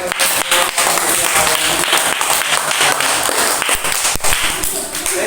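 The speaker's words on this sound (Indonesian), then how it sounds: "Kita beri tepuk tangan" A classroom group claps after a discussion presentation, sharp close claps forming a loud, uneven burst that carries on for several seconds.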